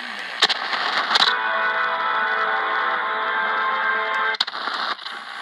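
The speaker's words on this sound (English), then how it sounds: "Getting WBZ in Boston, Massachusetts at this time of day is not really surprising." A Grundig G3 Global Traveler portable radio receiving AM station WBZ Boston, a steady band of broadcast audio with hiss and static, broken by a few sharp clicks and crackles.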